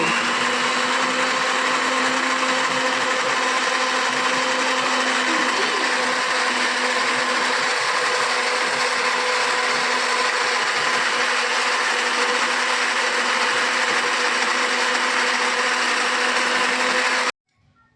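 Mixer grinder running steadily as it grinds batter for a potato patishapta recipe, a loud continuous motor whine and churning that holds for about seventeen seconds before cutting off abruptly.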